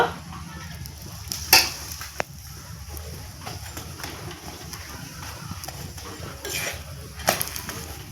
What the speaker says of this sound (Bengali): এই পরোটা ভাজতে বেশি তেল লাগে না অল্প তেল হলেই এই পরোটাগুলো খুব সুন্দর ভাজা হয়ে যায়